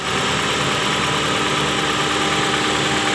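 A Honda City with an i-DSI engine idles steadily after a coil check, running smooth and even with a constant close mechanical drone and no missing or stumbling beats.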